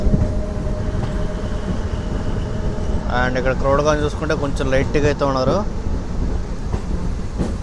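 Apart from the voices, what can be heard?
DEMU passenger train running on rails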